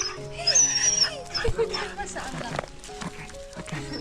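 A dog whimpers and yips in high, wavering cries, with a few sharper sounds close by. The cries come and go over a steady low background, and a person speaks softly in between.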